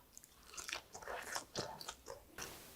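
Someone bites into a crispy kimchi pancake made with rice flour, a close series of sharp crunches and chewing crackles over a few seconds with no talking.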